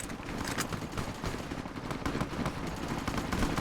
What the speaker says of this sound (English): I can tell by the gunshots it's Fiends.